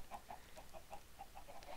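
Chickens cluck in a video game farm, a rapid, even series of about a dozen short clucks over a faint noisy background, moderately close and alone.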